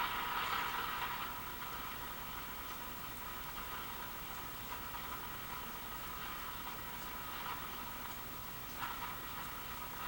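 Faint, steady hiss of static with no station tuned, from a restored Zenith 7S529 tube radio at its first power-up after restoration, droning evenly throughout with a slightly brighter burst at the start.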